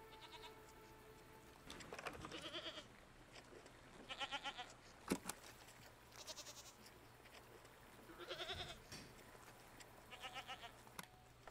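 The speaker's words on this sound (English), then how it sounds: "We could archive a recording of a goat." Goats bleat in several separate bursts spread across the recording, each a wavering, harmonic cry over a steady low hum, fairly close and with no talking.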